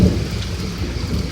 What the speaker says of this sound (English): Well, it's really rainy here.